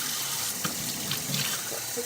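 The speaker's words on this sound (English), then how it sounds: "you are going to put warm water and warm water only into the slime." Warm water runs steadily from a tap into a sink while dried-out slime is being fixed, producing a constant splashing hiss at moderate volume with a few small gurgles and no voices.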